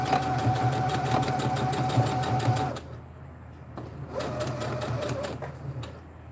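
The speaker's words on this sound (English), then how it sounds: "you want to sew as close to the edge as possible on these bags" Sewing machine running along the edge of a bandana bag, a loud continuous mechanical whir for a few seconds, a brief pause, then another shorter stitching run.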